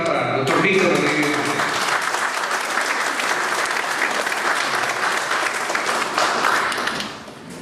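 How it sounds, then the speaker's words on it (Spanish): Loud, sustained applause from a lecture audience greeting a law speaker, dense clapping filling the room for about seven seconds before tapering off at the end. "reiterar un fuerte aplauso al doctor Víctor Rodríguez"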